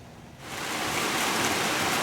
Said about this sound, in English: We get a downpour